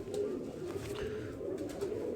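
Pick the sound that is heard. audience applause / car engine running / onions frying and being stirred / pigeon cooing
pigeon cooing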